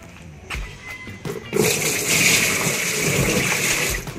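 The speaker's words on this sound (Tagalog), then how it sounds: "So, lagyan natin ng tubig." Water is poured into a toilet tank during a repair. A few soft knocks come first, then a steady, close gushing and splashing that keeps going to the end.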